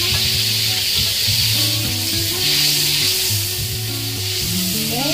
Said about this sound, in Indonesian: setelah menteganya cair, kita mulai untuk menumis bawang bombaynya ya